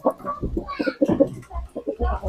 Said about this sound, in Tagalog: napakaraming manok dito.